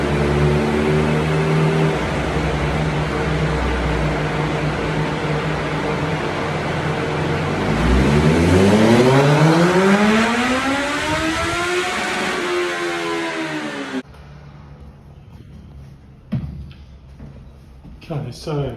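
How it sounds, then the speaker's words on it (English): A 2013 Kawasaki ZX14R motorcycle, stock apart from its exhaust and air filter, idles and then sweeps up sharply through its revs on a dyno in a loud, rising wail before cutting off, followed by faint clunks. "So let's see what she makes on the pre-run."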